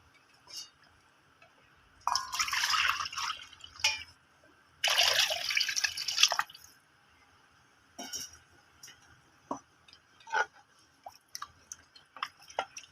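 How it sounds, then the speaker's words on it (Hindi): Water is poured from a cup into a pot of fried beef for pulao, giving two long splashing pours with a few short drips and small clinks between them. No one speaks. "अब मैं डालूंगी इसमें पानी"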